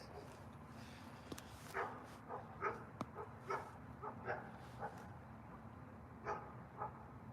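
A dog barks at a railside spot where people watch trains, giving short, evenly spaced yelps over a steady low background rumble, fairly distant and soft.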